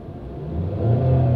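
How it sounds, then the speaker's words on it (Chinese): Car engine revving briefly after the accelerator is pressed by accident in a parked car in Shanghai, a short rising mid-pitched vroom close by, alone without talk. "哎呦，刚不小心踩到了油门。"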